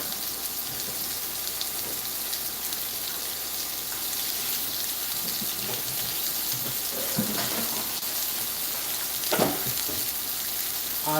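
Beef cheek searing in a hot pan gives a steady, loud, broadband sizzle that holds at an even level from start to finish, close up, with a few faint clinks and no talking.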